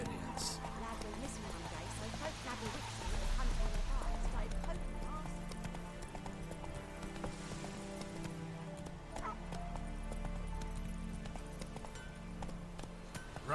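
Roach, Geralt's horse in The Witcher 3 on PS4, gallops with a continuous clip-clop of hooves, and a voice talks over the hoofbeats.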